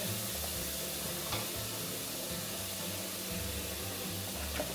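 Steady scraping and stirring in a pan during cooking, with a continuous sizzling hiss underneath and a few soft clinks, close and even throughout.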